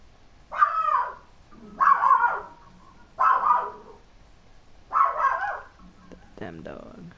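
A dog in a Fortnite game barks four times in an even rhythm, each bark distinct and fairly loud over a quiet background, followed by a softer, broken yelp at the end.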